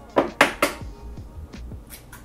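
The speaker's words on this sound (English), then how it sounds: "The next thing I'm going to do is add 1 egg." An egg is cracked against a bowl for lemon sandwich cookie dough: a few sharp taps and knocks close by, followed by softer bumps and handling sounds.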